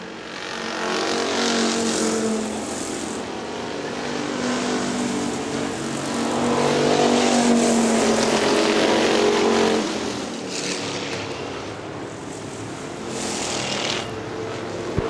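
Factory stock cars race around Hartford Speedway Park, engines roaring loud and steady as the pack circles, swelling and fading as cars pass.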